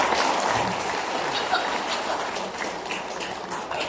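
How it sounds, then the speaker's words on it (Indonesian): An audience at a school gathering applauds the principal, producing a dense, continuous wash of many hands clapping at steady loudness throughout. "Tepuk tangan dulu buat Kepala Sekolah dulu."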